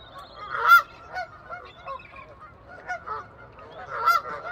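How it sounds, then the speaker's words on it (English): Geese circling a boat on open water near a shoreline, honking loudly and repeatedly in overlapping bursts, with several birds calling close by and others fainter in the distance. "What'd you do to attract all these geese?"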